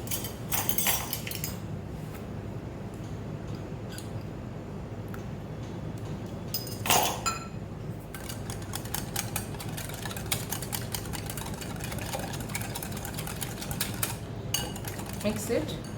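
Crepe batter with egg and oil being whisked in a bowl, producing a steady busy clatter of utensil against the bowl with sharper clinks, over a low background hum.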